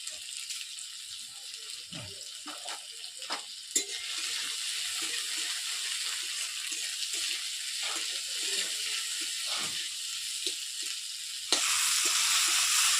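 Chopped capsicum frying with cabbage in a pan for a vegetarian cabbage curry, a steady bright hiss of sizzling throughout with occasional soft stirring knocks, growing slightly louder near the end.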